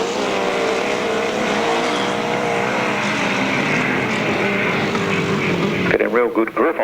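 A single-cylinder sidecar outfit races on a slippery grass track at a 1995 left-hand sidecar meeting, its engine droning loud and steady before a sharp burst of revving near the end, under continuous commentary.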